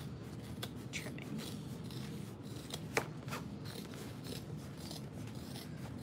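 Scissors trim fabric for a small backpack, giving quiet, close snips with a few sharper cuts scattered among soft rustling. The level stays low throughout.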